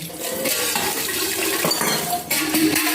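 A milk pot being washed under a running tap at home, with a steady loud rush of water broken by splashes and clanks as the pot is handled close by.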